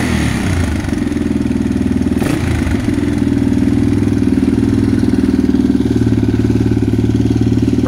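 Fuel-injected 1986 Yamaha XT350 motorcycle engine running with no exhaust hose attached, loud and close, a steady rapid thumping idle that rises slightly in pace partway through, with a brief clatter near the start.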